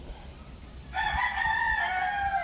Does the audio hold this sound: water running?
no